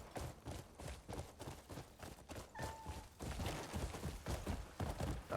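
Galloping horse in the video game Crimson Desert, a busy run of dull hoof thuds and clatter mixed with game sounds, steady and fairly quiet throughout with no talk.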